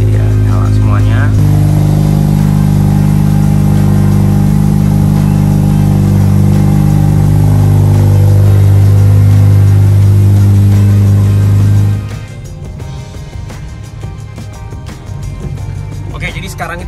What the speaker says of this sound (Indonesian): Kita nyalain dulu mobilnya. Ya, ini dia, nyala semuanya.